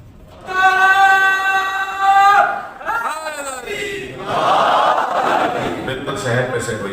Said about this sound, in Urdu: باہر کے مومنین بھی صلوات کے نعرے کی کوئی آواز آنی چاہیے